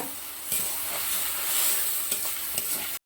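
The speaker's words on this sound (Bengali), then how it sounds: "4 থেকে 5 মিনিট আমি এখানে ভালো করে ভেজে নেব কচুরলতিগুলোকে।" Taro stolons fry in a pan with peanut paste while a spoon stirs them, giving a steady close sizzle with light scraping strokes. No one speaks.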